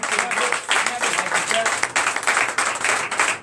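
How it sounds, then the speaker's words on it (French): A church congregation at a Sunday service in Comè, Benin, clapping loudly for the Lord, dense uneven handclaps from many people filling the room at close range, with voices mixed in. "je vous demande d'applaudir très fort notre Seigneur"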